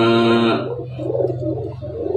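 A caged fighting songbird gives a short, clear call at the start, then soft, low cooing follows. It is close and alone, with no talk over it.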